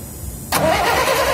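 A Tata BS3 1616 truck engine cranks and catches after half a second of quiet, then runs in a steady, loud mid-pitched rumble close by, with no voices.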